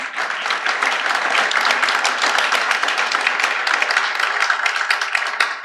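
An audience at a cultural talk applauds a guest professor, a dense, steady wash of many hands clapping at once that continues evenly without voices.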